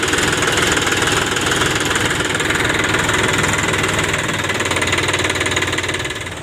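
A tractor engine runs steadily at close range, a loud, even chugging drone with a knocking vibration that holds throughout and eases slightly at the very end.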